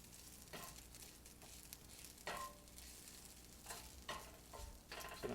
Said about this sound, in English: Okay, that's frying up really nicely.